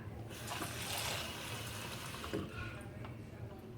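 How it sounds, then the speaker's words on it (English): Water running and splashing into a clear ice ball maker mold, a steady gushing pour that rises and eases over a few seconds, with a person speaking faintly underneath. "But you put some water in there"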